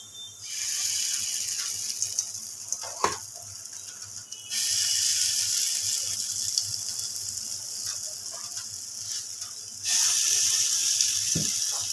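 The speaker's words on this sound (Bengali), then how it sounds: "তেলটা গরম হয়ে গেছে এবার আমি একটা একটা করে বড়া ভেজে নেবো" Masoor (red lentil) dal fritters frying one by one in hot oil: a steady, close hiss of sizzling that grows louder in two sudden steps as more batter goes into the pan, with no talking.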